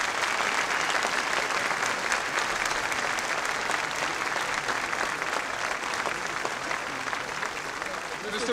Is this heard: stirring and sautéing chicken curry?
no